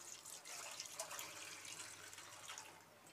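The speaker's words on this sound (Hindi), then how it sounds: "ये समझ लें 1 गिलास पानी डाल रही हूँ मैं" Water from a glass poured into a cooking pot of dhuan dahi gosht, a steady close splashing, trickling flow lasting a few seconds with no talk over it.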